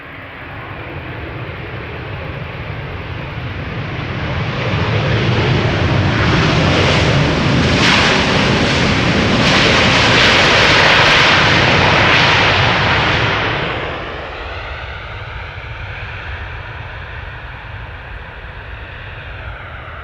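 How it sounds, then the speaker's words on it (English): Delta Airbus A330neo jet landing at Amsterdam Schiphol, a loud broad engine roar building over several seconds, peaking as it passes, then fading into a softer whining tone with steady background rumble, no talk. "Quick look and listen to the landing of the Delta A330neo."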